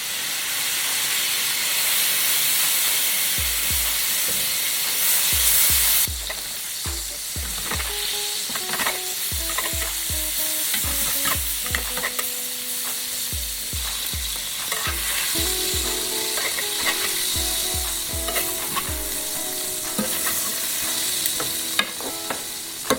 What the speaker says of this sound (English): we're gonna go ahead and saute up this fish. This is cod.